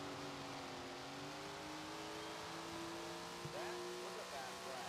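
Sim engine note from Tony Stewart's Sprint Car Racing, a sprint car lapping a dirt oval, holding a steady high drone with rising and falling harmonics through the corners, continuous and fairly faint throughout.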